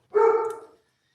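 A pet dog gives one short, clear bark, close and loud, then silence.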